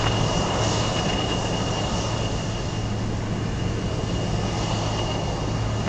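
A Boeing 747 at Anchorage airport sends out a steady, loud jet engine roar that holds evenly throughout, with no speech.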